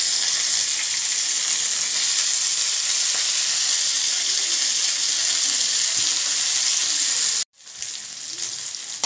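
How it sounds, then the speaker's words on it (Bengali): Soaked cashews and raisins fry in hot oil with a steady, loud sizzling hiss that runs unbroken, then cuts out abruptly near the end before a softer sizzle resumes. "সেই কাজু কিশমিশগুলো দিয়ে দেবো তেলের মধ্যে"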